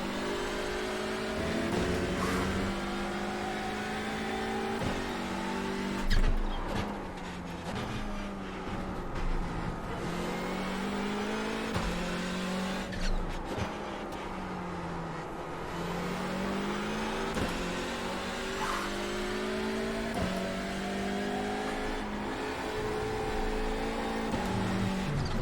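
Race car engines roar around the Okayama track in iRacing during an IMSA race with TCR and GT4 cars, a continuous loud buzz of several cars revving and shifting gears, with occasional passing surges.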